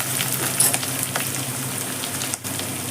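Garlic frying in oil in a pan, a steady close sizzle and crackle with faint stirring, continuous and fairly loud.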